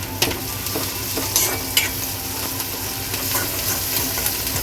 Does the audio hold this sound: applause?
no